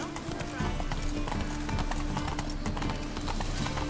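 The horse Roach gallops in The Witcher 3 with a fast, steady clip-clop of hooves that runs through the whole clip. A voice talks over it.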